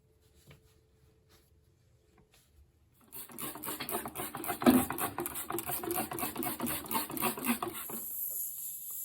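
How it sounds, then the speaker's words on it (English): Old wax being scraped off a toilet flange during a toilet installation: after a quiet start, a steady, close rasping scrape runs continuously with rhythmic strokes, fairly loud and without talk. "Scrape up all the wax."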